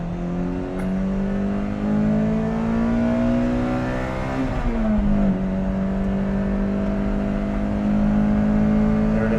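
Lotus Elise engine revving hard through the gears on a mountain road, a loud, continuous rising howl heard from inside the cabin that dips briefly at a shift before climbing again, with no voices over it.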